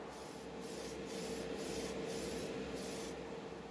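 Steady, quiet rubbing of fine 2,000 to 3,000 grit sandpaper over primed parts of a 1:8 scale 1967 Shelby Mustang GT500 Supersnake model, a close, even rasp with slight swells of strokes and no voices.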